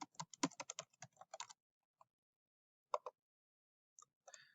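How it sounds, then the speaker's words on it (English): Keys on a computer keyboard clatter in a quick burst as a username is typed, then a few isolated keystrokes follow in a quiet room. "Type in your username,"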